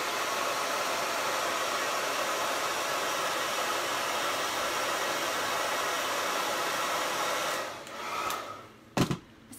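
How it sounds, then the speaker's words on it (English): A hair dryer runs steadily at close range, drying paint on a painted gingerbread man, a constant broadband whoosh that cuts off near the end, followed by a couple of sharp clicks. "I sometimes think it's a little rude to use the hair dryer when I'm live."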